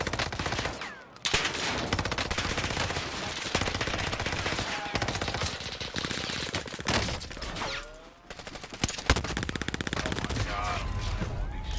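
Dense, continuous gunfire from a shooter video game, with rapid automatic bursts and volleys nearly filling the span, only short gaps between, loud and close, and faint voices now and then beneath.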